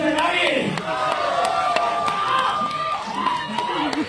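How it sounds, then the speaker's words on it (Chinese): A film premiere audience cheers and shouts at a Beijing launch event, a dense crowd roar that runs steadily throughout with excited voices rising above it and a few sharp claps mixed in. "来，掌声欢呼声在哪里？"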